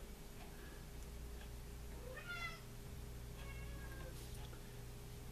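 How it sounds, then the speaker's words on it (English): A cat meows a couple of times at a distance in a leatherworking workshop, quiet against a steady low background hum. "I don't know if you could hear the cat"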